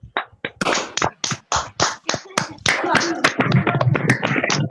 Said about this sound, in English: So I need to see big sound, applause